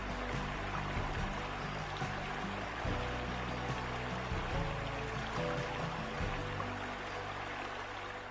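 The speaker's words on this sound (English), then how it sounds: "thousands of waterfall curtains pour over roots, rock edges, and green moss, creating sounds that echo through the forest" Thousands of waterfall curtains at Plitvice Lakes spill over roots, rock edges and green moss in a forest, giving a soft, constant rush of falling water that stays even and unbroken throughout.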